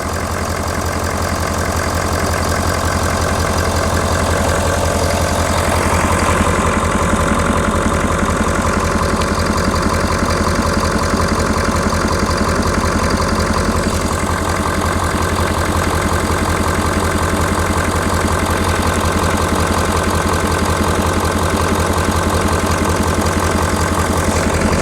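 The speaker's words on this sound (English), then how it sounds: "I'm not gonna be able to talk over the motor sound." A 2019 Ford F250 pickup with the 6.7L engine idles steadily and loudly, a dense continuous mechanical rumble with a faint knocking texture, heard up close and alone throughout.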